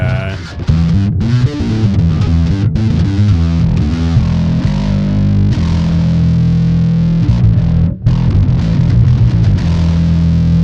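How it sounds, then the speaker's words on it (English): Heavily distorted bass guitar riffs through a Boss ME-90B multi-effects unit, with a thick, gritty metal tone, played loud and continuous with a brief pause near the end. "If you wanted to go for a little bit more of a metal sound"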